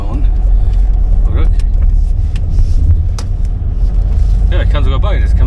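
A car drives on through the dark in East Frisia during stormy pre-Christmas weather. Its engine runs in a steady, loud, close rumble with road noise throughout, and people talk inside the car over it.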